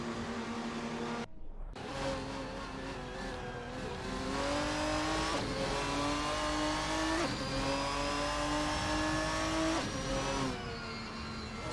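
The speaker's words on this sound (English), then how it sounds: "We are currently witnessing a thrilling race with our driven racing cars in a racing simulator." Racing cars in a GTR racing simulator at Interlagos: loud, continuous engine roar with rising pitch through the gears and repeated upshift drops, one sharp cut near the start, no talking.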